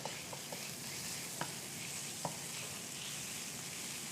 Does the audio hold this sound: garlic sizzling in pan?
yes